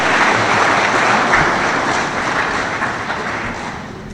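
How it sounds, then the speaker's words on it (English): Audience applause for the sponsors of a biodiversity event, a loud, dense wash of clapping that holds steady and then tapers slightly toward the end. "Shall we please clap for them?"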